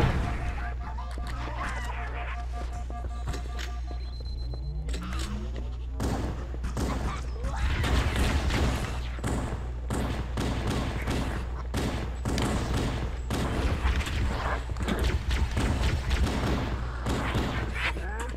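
Rapid gunfire and blasts from a Halo video game match, dense bursts of shots and thuds continuing throughout, loud and steady over a low droning background.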